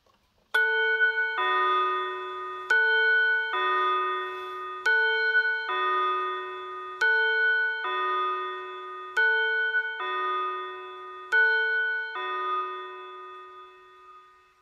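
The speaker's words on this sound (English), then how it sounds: "those are fake pendulum clocks" A fake pendulum clock strikes the hour with eight evenly spaced, resonant chimes, each ringing out and decaying before the next, loud and close, the final strike fading away as the mechanism winds down.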